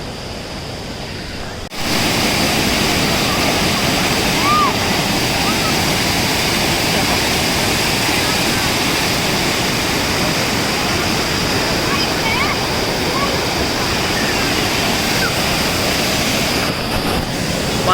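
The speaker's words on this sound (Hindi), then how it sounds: "पानी का बहाव बहुत ज़्यादा है" Strong river water rushing near Kodiveri Dam, a loud, steady broadband roar of fast current that starts abruptly and continues unbroken, close and dominant with no voices over it.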